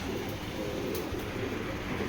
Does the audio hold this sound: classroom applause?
no